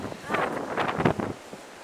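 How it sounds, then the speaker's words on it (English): Strong blizzard wind blows snow in loud, buffeting gusts that rise and fall against the microphone over a couple of seconds, close and rough. "Wow, look at the wind blow all the snow."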